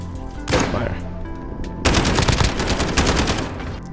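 Rifle fire in the video game Modern Warfare, with one loud shot followed a moment later by a sustained rapid burst of close gunfire over steady game background noise.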